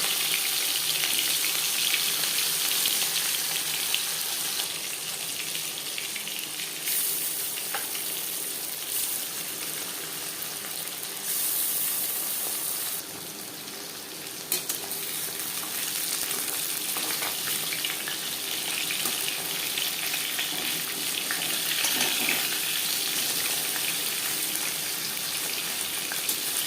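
Marinated bata fish pieces frying in refined oil, a loud, continuous crackling sizzle held close throughout with brief dips in intensity, no voices.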